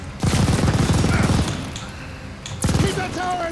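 Mounted tower machine gun in the Call of Duty Vanguard campaign hammers out a sustained rapid burst, pauses briefly, then fires a second burst; loud and close, with battle noise between.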